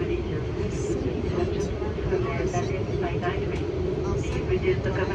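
Steady broadband airplane cabin drone during the approach before landing on a flight from France to Côte d'Ivoire, continuous and loud throughout, with faint voices and announcements murmuring underneath.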